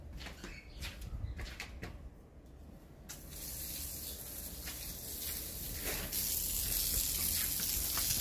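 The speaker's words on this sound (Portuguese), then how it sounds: "Aproveitar molhar essas plantas." Plants being watered with a steady, close spray of water that hisses continuously and grows a little louder and brighter partway through.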